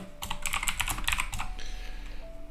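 Rapid keystrokes on a computer keyboard entering a terminal command for a Raspberry Pi print server, a quick burst of close, crisp clicks that taper off into a quiet hum.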